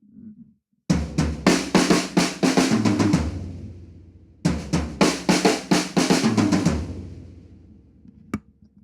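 Two bursts of rapid drum fills rolling across the toms and down to the floor tom, loud and close with ringing cymbal wash, a short pause between them and a single hit at the end.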